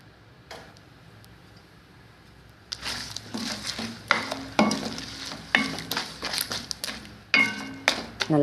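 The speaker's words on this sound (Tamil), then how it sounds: "நல்லா கலந்து கொடுங்க." A spoon stirs crab soup simmering in a pot, giving a series of irregular clinks and scrapes over a faint bubbling background, close by.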